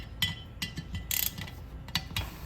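A torque wrench ratchets on the caliper bolts of a Wilwood big brake kit on a Toyota Tacoma, giving short metallic clicking bursts in an uneven rhythm, close and moderately loud, with no speech.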